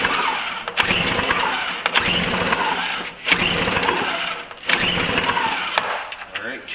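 Toro CCR snowblower small engine being cranked with the choke on, loud repeated pull-start bursts that sputter and die back, with several attempts and pauses between them.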